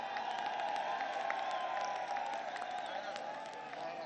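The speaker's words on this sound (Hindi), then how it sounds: "इनको तालियां बजा के इनका खैर मकदम करो।" A large crowd at a political rally claps and cheers steadily, a continuous bright wash of applause heard from a distance without speech over it.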